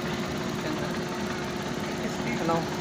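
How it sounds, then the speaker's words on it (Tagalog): Suzuki Transformer DA63T engine idling with heavy vibration, a steady low mechanical hum and faint knocking throughout, with no talk, heard fairly quietly. "Nanginginig, oh. Nanginginig yung makina. Sobrang nginig mga boss."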